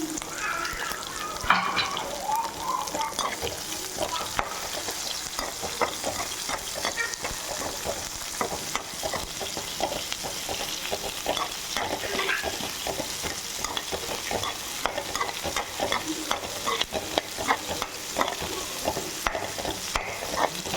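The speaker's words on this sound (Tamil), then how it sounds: "வெங்காயம் நல்லா கண்ணாடி பதம் வதங்கிடுச்சு." Chopped onions with curry leaves sizzle and fry steadily in a pan for dry fish thokku, stirred now and then, the crackle constant and close throughout.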